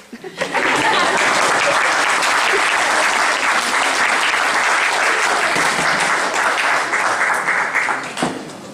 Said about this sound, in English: Okay, now applause.